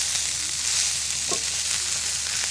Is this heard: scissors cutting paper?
no